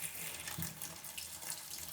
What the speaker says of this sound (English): we'll just let that pour just like that